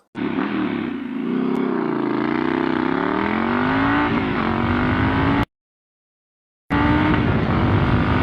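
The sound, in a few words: Triumph Scrambler 1200 XC motorcycle accelerating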